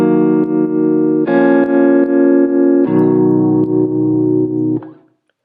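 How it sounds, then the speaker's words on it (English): Clean software jazz guitar with no effects plays a few sustained chords, each ringing several seconds before the next, close and dry, fading out at the end. "It's the jazz guitar."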